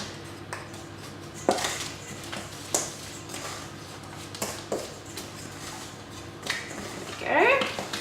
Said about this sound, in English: grab your wooden spoon and just mix that together